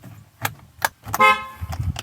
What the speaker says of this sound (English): If you do it right, it's probably going to honk.